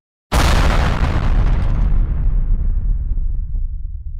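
A single huge blast from four pounds of C4 detonated in the film Tremors 2, hitting suddenly and loudly after a brief silence, then rumbling and slowly fading over several seconds.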